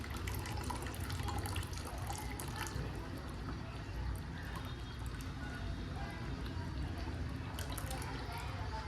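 Water is poured into a pan of pav bhaji that has just had lemon squeezed in, a continuous splashing, bubbling hiss that runs steadily throughout.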